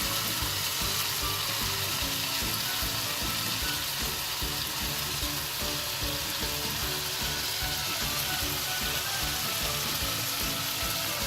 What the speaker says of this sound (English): I will take the slices of pumpkins and put it on top and fry it a little bit